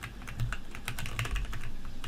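Computer keyboard typing during an online game, a fast irregular patter of close clicking keystrokes, with no voices over it.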